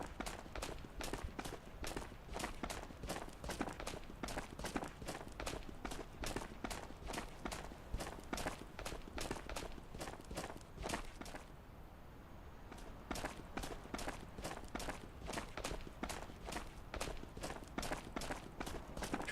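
Rapid footsteps thud steadily and evenly in the VR shooter Ghosts of Tabor, a running stride that goes on without a break apart from a short lull near the middle, heard at a low, quiet level.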